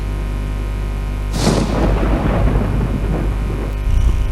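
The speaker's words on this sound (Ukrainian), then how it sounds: "В небі грім гримить." A deep rolling rumble swells in suddenly and lingers for a few seconds, a low booming roar like thunder, with no voices.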